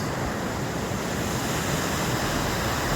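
Hat Creek, a river in Northern California near Lassen, rushes steadily past a campsite, a soft, continuous broadband wash of flowing water with no talking.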